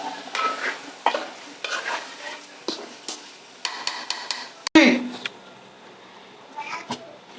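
Vegetables and tomatoes for a Bengali fish curry cook in a pan, with intermittent stirring clatters and scrapes, a sharp knock near the middle, and a light sizzle underneath; a voice speaks faintly at times.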